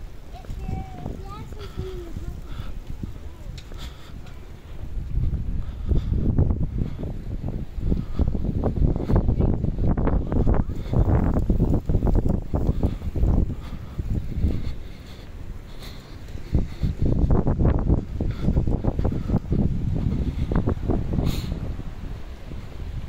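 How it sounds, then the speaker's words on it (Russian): Moderate wind buffeting a DJI Osmo 4 camera microphone on a windy walk through a Vancouver student campus, rumbling low gusts that swell and fade in bursts, loudest in the middle stretch. "Небольшой ветер средненький"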